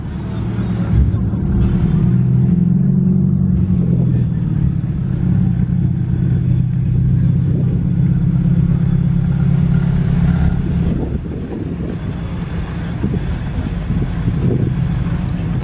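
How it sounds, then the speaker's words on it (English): Classic cars, including a Porsche 944 S3 and a Pontiac Firebird, roll past at a car meet at a heritage centre, making a loud, continuous low engine rumble that swells and eases as they pass, with outdoor crowd noise around. "There goes the Porsche 944 S3, I should probably add. Then went the Pontiac Firebird."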